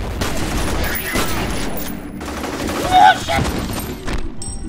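Rapid gunfire in the video game F.E.A.R. crackles densely across the scene with a louder burst near the end, while a player talks and exclaims over it.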